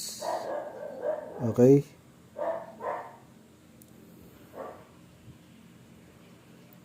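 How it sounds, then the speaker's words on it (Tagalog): A dog barks a few times in the distance, sharp yelps breaking through while a person talks nearby. "Pasensya na, maingay ang aso sa labas."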